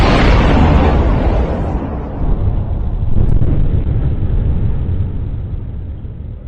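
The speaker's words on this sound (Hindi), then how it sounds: "वो आवाज़ एक ज़बरदस्त बड़ा धमाका था, जैसे आसमान में किसी चीज़ का विस्फोट हुआ हो।" A mysterious, very loud boom over Bangalore, like an explosion in the sky, rolls on as a deep, sustained rumbling roar for several seconds before slowly fading, with no voices.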